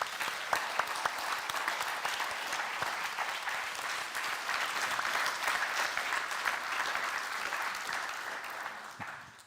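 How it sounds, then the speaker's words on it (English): Sustained audience applause at the close of a panel on NATO conventional deterrence, an even, fairly distant patter of many hands that holds steady before tapering off at the end. "give a huge round of applause for our speakers"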